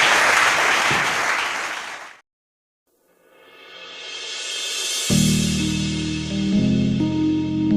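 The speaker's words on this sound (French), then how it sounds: "Est-ce qu'on peut acclamer la parole du Seigneur?" Applause from a church congregation at a French-language sermon, a dense loud burst of clapping that cuts off abruptly, then silence, followed by swelling sustained music.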